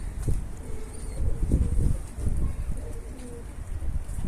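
Pigeons cooing outdoors, a few soft low throaty coos repeating at close range over light background noise, with no talk.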